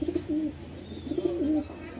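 Rajshahi Giribaj pigeons coo close by in two soft, rolling bursts, a low throaty burble with a quiet pause between them and no talking.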